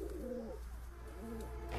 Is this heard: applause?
no